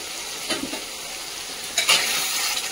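Masala spice paste for a village-style mutton curry sizzles steadily in a pan, with a couple of louder bursts as it is stirred and no voices.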